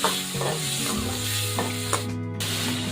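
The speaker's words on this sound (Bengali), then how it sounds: "এরপর কড়াইয়ে তেল গরম করে সামান্য হলুদ গুঁড়ো আর লবণ দিয়ে বেছে রাখা চিংড়ি মাছ দিয়ে নাড়াচাড়া করে নিচ্ছি" Shrimp seasoned with turmeric and salt frying in hot oil in a wok, a steady close sizzle with scraping stirs and clinks of the utensil, no voices.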